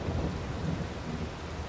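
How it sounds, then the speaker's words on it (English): A low, continuous rumble of thunder with rain hiss in a Farming Simulator 22 storm, heavy and steady for the whole short stretch with no voices. "It's actually rumbling. It's storming."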